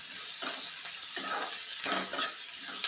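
Onions with salt fry in a pan for an onion curry, a soft steady sizzle with faint intermittent stirring scrapes, close and fairly quiet, no talking.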